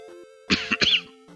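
A couple of close, harsh coughs in quick succession over a steady electronic hum with faint background music.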